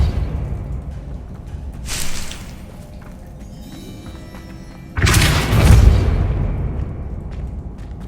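Two forceful Depulso spell impacts in the Hogwarts Legacy video game, each a sudden whooshing burst with a booming low thud, the second louder and longer, over a faint steady game ambience with no talk.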